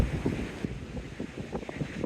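Cold, gusty coastal wind buffets the microphone on a seaside walk in Teignmouth, a steady low rumble with uneven surges and no talk.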